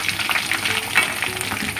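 Chicken pieces fry in hot oil during a second frying for a crispy coating, giving a steady, close crackling sizzle with small popping bursts throughout, and no talk.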